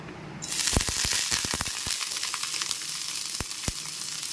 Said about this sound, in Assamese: তেনেহ'লে তেল গৰম হৈ আহিছে এইফালে, আৰু এইফালে মই ভাজিখিনি ইয়াতে দি দিছোঁ।